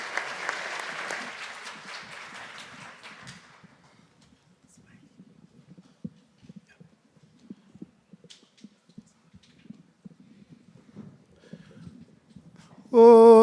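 A health summit audience applauds performers coming on stage, a broad burst of clapping for about three seconds that quickly fades into a quiet room with low rustles and thumps, then music starts abruptly at the very end.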